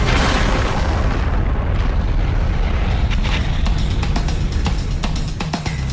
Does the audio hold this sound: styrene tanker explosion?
yes